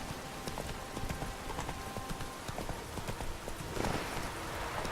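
Hooves of a horse clip-clopping at a run in The Witcher 3, a steady rapid beat close up against a continuous game ambience, with no talk over it.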